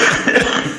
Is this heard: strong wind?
no